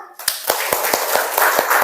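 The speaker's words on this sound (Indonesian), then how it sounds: "Beri tepuk tangan." A classroom of students claps in a steady rhythm, sharp distinct claps about every quarter second, loud and close, with no talking over it.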